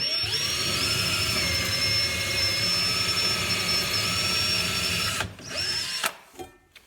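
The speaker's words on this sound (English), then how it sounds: "First thing we're going to do is put in 2 locator holes to take a 7mm dowel." A power drill bores locator holes for 7mm dowels into a desk pedestal, a loud steady close whine for about five seconds before it cuts out and briefly spins down.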